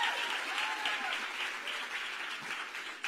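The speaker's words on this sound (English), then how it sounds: "a round of applause" Audience applause at a women's political summit session, a sustained even wash of many hands clapping, fairly distant and moderate in level, with no speech over it.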